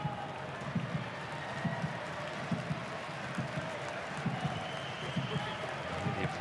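Perth Glory supporters applaud steadily in a stadium during an A-League football match against Western Sydney Wanderers, a broad distant wash of clapping and crowd noise with a commentator talking over it.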